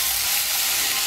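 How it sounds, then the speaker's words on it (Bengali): Potatoes and soybeans sautéing with spices in a hot pan, a loud, continuous close sizzle and hiss with no voices. "মিশিয়ে নিয়ে আমি আলু সয়াবিনগুলো আর মশলা আর একটু কষিয়ে নেব"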